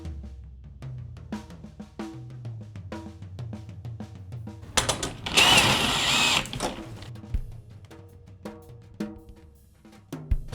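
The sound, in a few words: drill tightening drum tension rods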